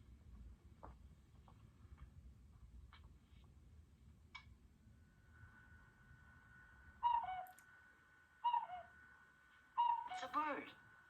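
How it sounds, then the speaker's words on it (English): A bird call in a Three Stooges comedy, heard as three short, bright chirping bursts near the end, following a stretch of low rumbling background noise. "It's a bird."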